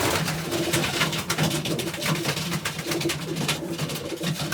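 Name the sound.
young pigeon cooing in a loft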